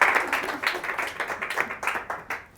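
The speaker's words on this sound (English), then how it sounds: "nice round of applause for Alice and JJ" A small audience at a magic and mind-trick show gives a brief round of applause, clapping in uneven bursts that fade quickly.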